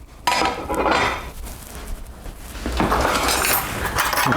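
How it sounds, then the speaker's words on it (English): A plate is lifted and set back down on a kitchen surface while food is being plated, giving a couple of close, crisp ceramic clinks and scrapes with no talking. "So we're going to get our plate. And we're going to put that there."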